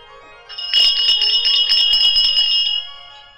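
Bells ring for Christmas in a bright, rapid jingling burst that swells in, holds for about two seconds, then fades. The bells are loud and close, with no voices over them.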